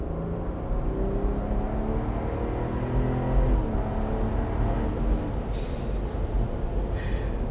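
Ineos Grenadier station wagon with a BMW B58 engine pulling steadily under throttle, heard from inside as a smooth, continuous drone with rising engine tones, close and fairly loud, with no one talking.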